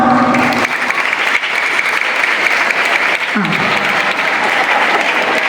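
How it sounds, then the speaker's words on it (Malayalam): Boys in a school assembly audience at a government higher secondary school arts festival opening clap loudly and continuously, a dense wash of many hands filling the room, with a brief voice near the start. "ആൺകുട്ടികൾ മാത്രം ഒന്ന് കൈയടിച്ച്"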